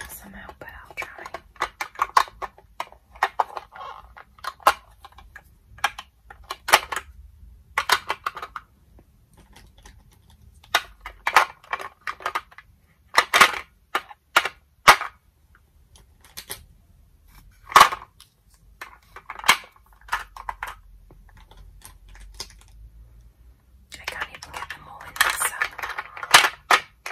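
Plastic lipstick and lip gloss containers are set back in place one by one, giving scattered sharp clicks and taps in irregular bursts, close and fairly crisp, with soft whispered talk between them.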